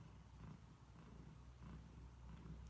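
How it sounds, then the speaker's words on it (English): A cat purrs softly and steadily, a low rhythmic rumble close by but faint, with no talking. "you can hear Marley purring."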